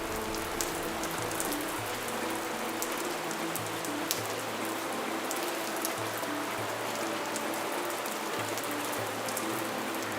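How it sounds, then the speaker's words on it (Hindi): Steady rain falls at the Kamakhya temple in Guwahati, a soft continuous patter of drops on surfaces that stays even and fairly faint throughout, with no voices. "रुक रुक कर बारिश"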